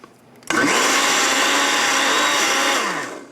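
A blender whirs loudly for about three seconds as it mixes sweet crepe batter made with white flour and a pinch of salt, starting abruptly and winding down at the end.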